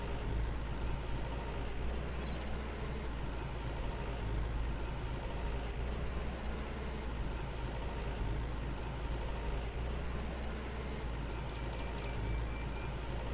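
A tractor engine drones in Farmer's Dynasty, a constant low mechanical rumble holding steady at moderate level with no speech over it.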